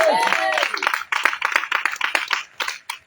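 A congregation claps in praise at an intense evening prayer meeting in Angré. Quick, rhythmic bursts of hand claps follow a brief voice at the start, then run fairly loud and steady to the end.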